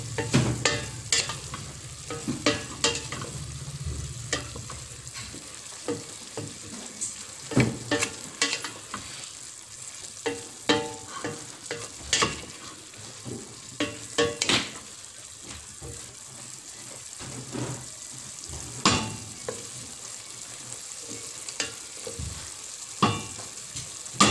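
Bicol-style dinuguan is stirred in a frying pan: irregular scraping and clattering strokes of a utensil sound up close over a soft, wet sizzle, with no speech.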